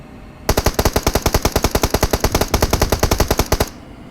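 Automatic gunfire in PUBG Mobile: a single sustained burst of about thirty rapid, evenly spaced shots, loud and close, lasting around three seconds with no talk.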